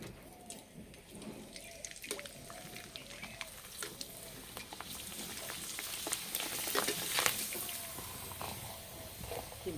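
Flour papad frying in plenty of hot oil in a wok, crackling and sizzling at a fairly low level with scattered sharp pops and bubbling over a soft continuous hiss.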